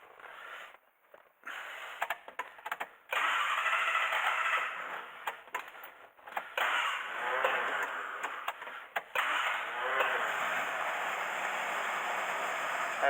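Hillman Imp car engine, not run in over five years, being started and revved with the choke partly on; a loud, steady engine drone fills most of the clip after a few brief bursts and cutouts at the start.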